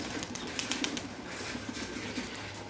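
Pigeons flap their wings and coo around a rooftop, soft and fairly distant, with brief fluttering bursts over a quiet background.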